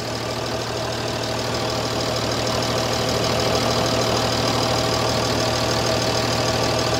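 A Volvo G88 truck engine idling smoothly, a steady low drone with an even, unbroken rhythm that holds close and constant throughout, with no talk over it.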